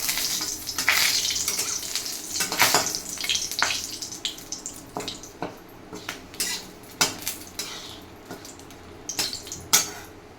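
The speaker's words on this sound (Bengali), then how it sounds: "তেল গরম হয়ে গেছে এবার ফোড়নে দেব শুকনো লঙ্কা গোটা আর তেজপাতা দেব" Whole dry red chillies and bay leaf hit hot oil in a pan, with faint frying hiss under sharp metallic clinks and scrapes of a utensil against the pot, close and intermittent.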